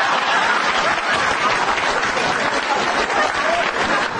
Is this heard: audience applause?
yes